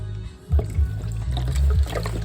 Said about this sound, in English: I'm gonna pour the broth over.